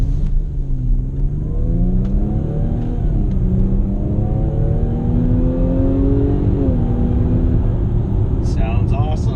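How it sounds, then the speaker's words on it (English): A 2017 Jaguar F-Pace 3.5 R Sport accelerates on a highway, its engine note climbing steadily through the gears with a loud, continuous rumble and whir inside the cabin. "Let's see how it accelerates."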